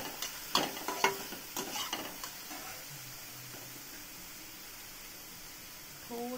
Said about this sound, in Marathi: कांदा छान परतून घ्यायचा आपल्याला बटरमध्ये।